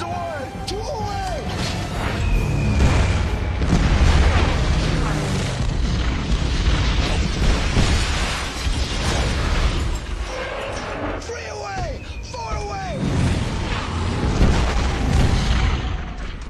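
Bombs dropped from aircraft explode in a dense, continuous wall of booming, crashing blasts and rumble, with voices and other battle noise layered throughout.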